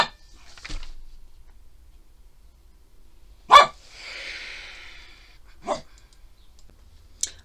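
A dog shut out of the room barks from beyond the door, a few sharp, separated barks at moderate distance, each followed by a short breathy huff, amid quiet pauses.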